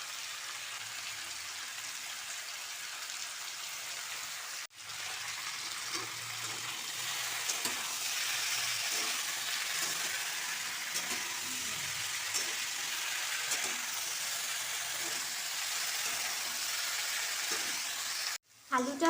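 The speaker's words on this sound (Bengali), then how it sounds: "এবারে আলুগুলোকে মিডিয়াম ফ্লেমে ভালো করে একটু ভাজা ভাজা করে নিতে হবে" Potatoes fry in a pan on a medium flame, giving a steady, even sizzle with faint stirring scrapes, close and continuous. Two brief dropouts break it, near the start and near the end.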